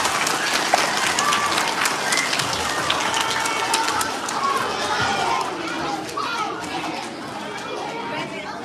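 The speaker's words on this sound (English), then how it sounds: "Can we clap for him?" Second and third grade children at an elementary school clap in sharp, scattered bursts amid lively chatter and voices in a busy room, and the clapping thins out after a few seconds.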